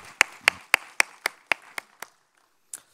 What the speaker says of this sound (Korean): 하나님께 영광의 박수를 올려드립니다.